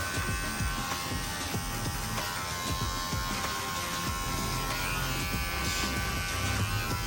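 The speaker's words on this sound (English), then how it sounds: "I'll take my one guard and put that on my clipper and open it all the way up and start fading that line out." An electric hair clipper fitted with a one guard fades a taper, buzzing steadily and close up for the whole stretch, with faint snipping texture as it moves through hair.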